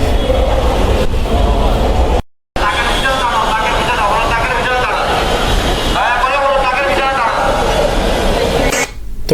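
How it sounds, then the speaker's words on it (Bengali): Metro rail train arriving at a station, a loud continuous rumble and rail screech close by with a brief cut, voices or announcements mixed in. "তো কিছুক্ষণের মধ্যে মেট্রো রেল চলে আসলো।"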